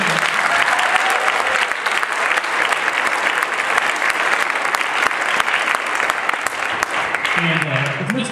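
Sustained applause from an audience at an evening winter concert, dense steady clapping throughout, with a voice rising over it near the end.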